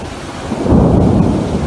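A thunderstorm with rain, where a deep rumble of thunder swells midway beneath a continuous loud wash of rainfall, close and unbroken by voices.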